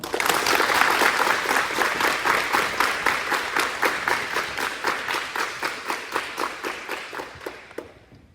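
Applause at a cadet ribbon ceremony for Cadet Phillips: dense clapping at first, thinning into slower, evenly spaced loud claps that fade toward the end, with no talking.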